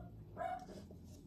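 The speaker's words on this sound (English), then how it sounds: "My dog is going crazy because there's some motorcycle like next door." A dog gives a single short bark or yip, somewhat distant and muffled indoors, reacting to a motorcycle next door, followed by low background noise.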